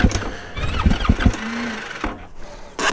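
A snowmobile engine tries to start in the cold with a very cold battery, several close, loud cranking chugs and sputters, a brief whining squeal, then a pause before another burst.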